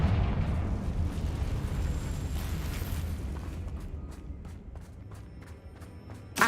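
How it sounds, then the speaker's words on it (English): A Confringo fire spell in the Hogwarts Legacy video game detonates as a deep, rumbling explosion that slowly fades, followed by a few light crackling pops. "Confringo."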